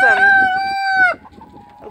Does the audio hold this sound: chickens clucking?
yes